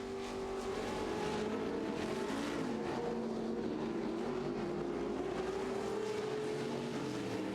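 Pro 4 and Pro 2 off-road race trucks roaring around a CORR dirt track, a continuous loud engine drone with rising and falling revs as several trucks pass, no speech heard.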